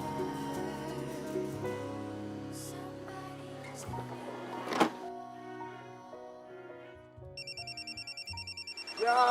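A telephone ringtone chirps in a rapid repeating electronic pattern for the last couple of seconds, fairly loud, following a stretch of soft music and a brief thump in an indoor scene.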